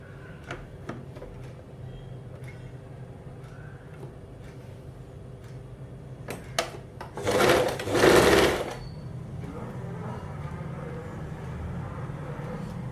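A sewing machine stitches the back piece of a blouse in a loud close burst of roughly two seconds, framed by quiet fabric handling and light clicks before and after.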